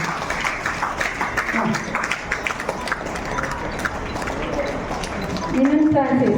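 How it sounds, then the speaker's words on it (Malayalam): An audience at a village ward assembly claps for the children, a steady crowd applause running throughout. A voice comes in near the end. "എല്ലാവർക്കും കൈയടിക്കാം കേട്ടോ."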